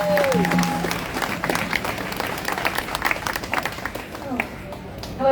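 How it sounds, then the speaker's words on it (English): A crowd at a Free Palestine rally in Melbourne claps and cheers outdoors, applause swelling then tapering, with a voice over the start and shouts scattered through. "Give her a huge round of applause."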